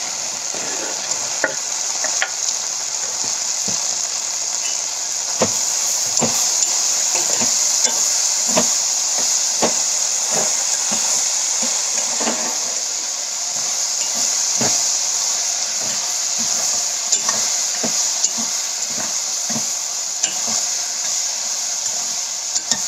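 Okra curry frying in a pan is stirred again and again, a spoon scraping in quick irregular strokes over a steady, loud sizzle that runs throughout with no talking.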